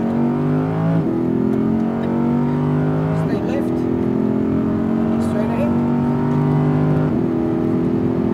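Audi R8 sports car accelerating hard on a Las Vegas track during an instructed drive, engine note climbing through several gear shifts in a steady loud drone, with an instructor's voice talking over it.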